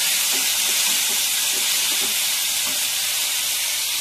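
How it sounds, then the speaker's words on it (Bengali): Shredded potatoes fry in a pan for Bengali aloo bhaja, giving a loud, steady sizzle and hiss with faint scraping stirs, no voices. "আলু ভাজি করবো, আলু ভাজি করবো।"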